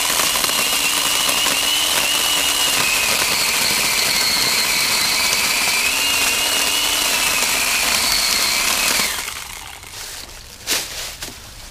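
Ryobi 18V cordless pole saw cutting through cedar branches outdoors, a steady buzzing motor whine with a continuous chain rasp that cuts off near the end, leaving faint rustling and a couple of light knocks.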